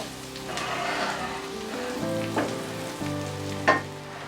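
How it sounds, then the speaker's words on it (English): Crushed garlic sautés in butter in a pan, giving a steady soft sizzle that crackles a little louder at moments, with no voices. "Add crushed garlic and saute."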